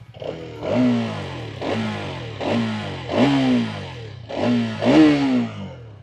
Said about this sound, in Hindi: यहाँ पर आपको एग्जॉस्ट के साथ में इनटेक का भी काफ़ी अच्छा नोट आ जाता है